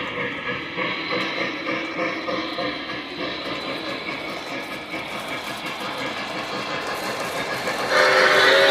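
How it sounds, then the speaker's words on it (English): Lionel model trains run on a 9-foot by 9-foot home layout with a continuous rolling rumble and rhythmic clicking of wheels over track joints. The sound stays close and steady and grows louder and brighter near the end. "He's getting his trains back running again."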